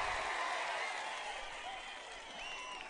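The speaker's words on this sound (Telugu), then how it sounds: "అవును అంటే గట్టిగా చప్పట్లు కూడా చెప్పండి" A crowd at an outdoor political speech by Chandrababu breaks into loud, steady applause and cheering, a dense wash of clapping that holds for the whole stretch without easing off.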